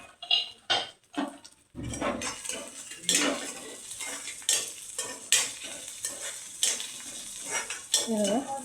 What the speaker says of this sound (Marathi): हे चांगलं परतून घ्यायचं